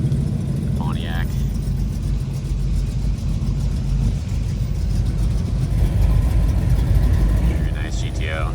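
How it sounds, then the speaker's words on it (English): A Pontiac GTO idles at a car show, a loud, rough low rumble that holds steady under the sound of people talking nearby. "Very nice GTO."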